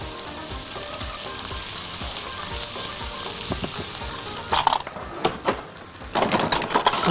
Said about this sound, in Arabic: نقلب بقى الكلام ده كله لغاية بقى ايه ما الثوم يكتسب اللون الذهبي